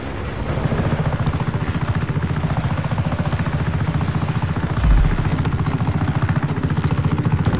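A helicopter in the video game Just Cause 3, its rotor thumping in a fast, steady chop with a droning engine underneath, loud and continuous, with a brief heavier thud midway.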